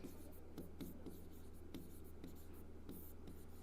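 A definition is written on a classroom board, with soft, irregular scratches and taps of strokes that sit faintly over steady low background hum.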